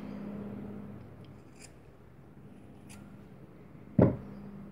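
A single sharp scissor snip cuts through macramé cord in a V shape, sounding close and distinct against a quiet room.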